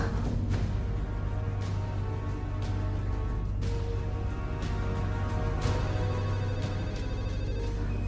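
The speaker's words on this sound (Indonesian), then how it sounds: "ada telepon" A telephone rings repeatedly in a quiet indoor scene, regular bursts of ringing over a steady low hum.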